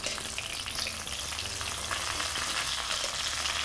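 Smelt fish fry in a pan with a steady, dense hiss of sizzling oil that stays close and even throughout, crackling and popping under no talk.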